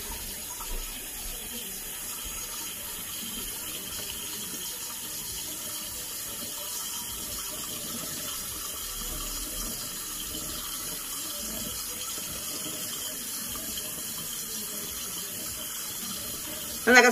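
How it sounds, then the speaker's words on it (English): Tap water runs steadily into a sink while a face is rinsed, a soft constant close splashing stream with little variation and no talking. "I'm just going to rinse it off one more time really good."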